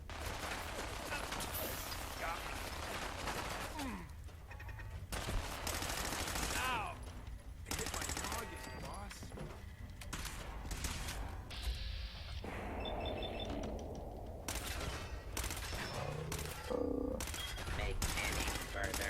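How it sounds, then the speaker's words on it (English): Rapid sustained bursts of automatic fire from a minigun turret in Fallout 4 pour out continuously alongside other game effects, loud and dense across the whole stretch with brief mechanical clatters. "This is a minigun turret?"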